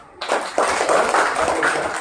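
A group of children clapping together, a steady dense patter of applause starting abruptly and continuing evenly, fairly close.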